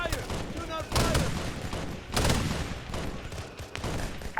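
Gunfire bursts in a Halo multiplayer op, two loud broadband volleys about a second apart followed by scattered fainter shots, with voices talking over the shooting.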